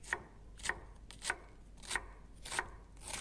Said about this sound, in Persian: حالا کلم، یه دونه کلم سالم. ببینید چجور خوردش میکنم.